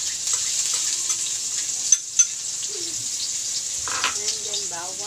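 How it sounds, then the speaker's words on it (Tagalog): Onions sautéing in a frying pan for spaghetti, a steady soft sizzle running throughout with faint birdsong and a brief voice in the background. "Dito naman sa kabila, magigisa na rin tayo. Lagyan natin ang sibuyas."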